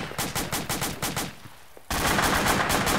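Automatic gunfire in the military video game Arma 2, a rapid burst of close shots that fades, then gives way to a dense sustained roar of fire.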